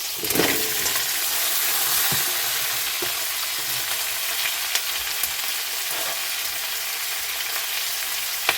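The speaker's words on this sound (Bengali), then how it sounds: "এবার এই সবজিগুলোকে ভালো করে ভাজা ভাজা করে নেব।" Onion, potato and pumpkin pieces fry in a pan with a constant, fairly soft hiss of oil, dotted with a few light stirring clicks and taps.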